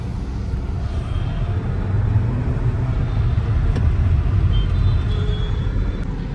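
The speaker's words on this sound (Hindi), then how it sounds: "बहुत बढ़िया पिकअप है गाड़ी को" A 2026 Renault Duster SUV with a Mercedes engine accelerates from inside the cabin, a steady loud low rumble of engine and road noise with no talk.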